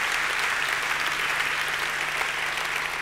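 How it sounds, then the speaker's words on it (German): Dense, steady applause from an audience at an evening forum, honoring two ministers, a continuous wash of many hands clapping at even loudness with no talk. "Einen Applaus für Sie beide."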